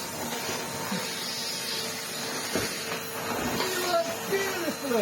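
A refurbished Henry HVR160 vacuum cleaner runs with a steady whine and airflow roar as its plastic floorhead rattles and scrapes across the floor, with a person talking over it.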